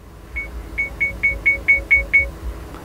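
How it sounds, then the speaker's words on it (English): Eight short, clear electronic beeps come from an Urvolax rear-view mirror dash cam menu as its volume setting is raised. They are evenly spaced, close and fairly loud over a faint background hum. "And you heard, you could hear the beeps."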